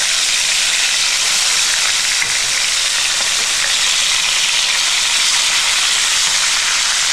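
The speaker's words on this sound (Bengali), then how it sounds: "এই পিঠটাও সেম লাল করে ভেজে নেবো" Pangas fish steaks frying in hot oil in a pan over a low gas flame, browned on one side and flipped: a loud, steady, close sizzle with a constant crackling hiss and no voices.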